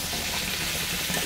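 Green chillies dropped into hot oil for a Bengali steamed magur fish dish, a close, steady crackling sizzle that runs briefly without any talk.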